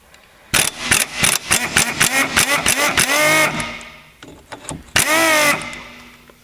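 An impact wrench loosens a 17 mm outer tie rod nut on a car in rapid, loud hammering bursts that rise and fall in pitch, followed by a shorter second burst after a pause.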